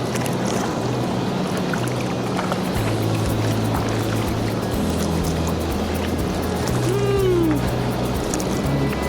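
Rushing water from a waterfall in Quetico pours steadily nearby in a dense, unbroken roar, with a low engine hum running underneath.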